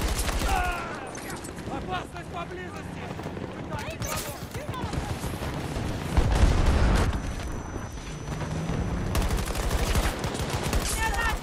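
Dense, continuous gunfire and explosions fill a 64-player Breakthrough battle on the Hourglass map in Battlefield 2042, loud and chaotic throughout, with a player talking over the shooting.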